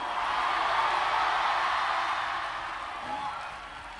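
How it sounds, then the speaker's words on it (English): A church congregation answers a preacher's call with a broad roar of clapping and cheering that swells and then slowly eases off, with no clear speech over it. "Clap your hands and scream hallelujah."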